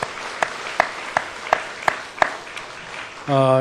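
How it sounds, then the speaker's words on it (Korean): A church congregation claps for its infant and kindergarten teachers in unison, six crisp, evenly spaced claps in a steady rhythm, followed by a voice starting to speak at the end. "저 교사들을 위해서 한번 크게 격려의 박수 하시기를 바랍니다"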